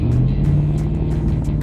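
An LS86 car engine pulls under load after a gear shift, a loud close low drone with steady rumble and a slight rise, heard alone.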